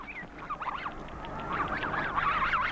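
A flock of wild snow geese calls in overlapping, nasal honks that waver up and down, growing denser and louder toward the end, with no voices.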